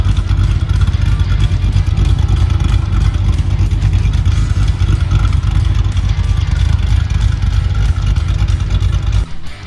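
Modified Chevy SS (Holden Commodore SSV Redline) V8 with a Livernois 2C cam, headers, high-flow cats, X-pipe and stock bimodal mufflers, revving loudly and steadily up close with a lumpy, choppy idle character throughout.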